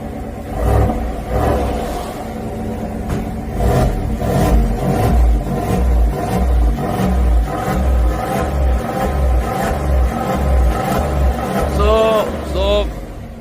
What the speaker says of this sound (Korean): 배기 소리 궁금하시니까 난반을 오픈해도 됩니다. 소리 한번 들어보시라고요.